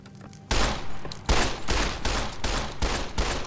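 Gunfire in the video game Fallout: New Vegas: after a quiet half second, loud close shots crack out in a rapid, steady series of roughly seven sharp reports, each with a low thump and short echo tail.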